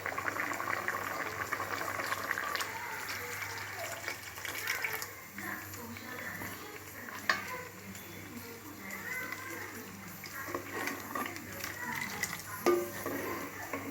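Tamarind water bubbles at a low boil in a pot for a South Indian eggplant curry, a soft continuous simmer with occasional clinks, while a voice talks over it.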